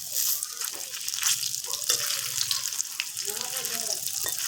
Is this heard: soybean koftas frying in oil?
yes